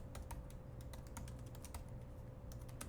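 Fingers tap out text on a computer keyboard in quick, uneven bursts of crisp key clicks, close but faint over a low steady hum, with no one talking.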